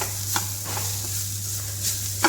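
A spoon stirs beetroot upperi with crushed coconut in a pan: soft scraping strokes, a few brief clinks, and a low steady hum over a quiet sizzle.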